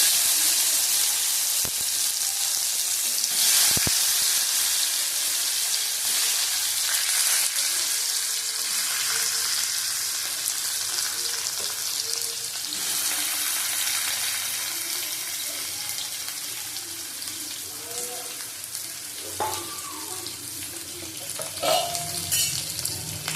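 Potatoes fry in oil in a pan for a shrimp curry with ridge gourd and pumpkin, giving a steady hiss and sizzle with occasional stirring clinks throughout.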